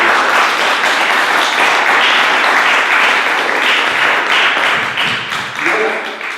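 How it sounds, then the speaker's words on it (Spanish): A live audience bursts into sustained applause at a talk about the Camino de Santiago in Estella, dense and loud clapping throughout that tapers slightly toward the end. "Agradecería un aplauso para mí"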